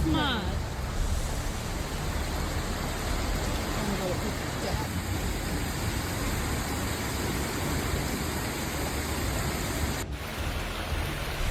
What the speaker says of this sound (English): Heavy rain turned the streets of Malaga into a reluctant river